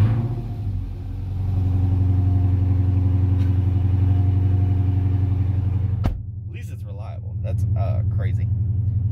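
A Chrysler 300 SRT8 with a cam swap coming runs at a close, steady, loud idle, a deep rumbling hum that dips abruptly around six seconds before settling back; a voice speaks briefly over it near the end.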